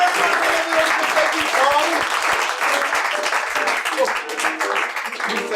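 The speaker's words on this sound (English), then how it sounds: "Give a round of applause!" Live audience applause at a comedy puppet show, steady dense clapping for about five seconds with voices faintly mixed in.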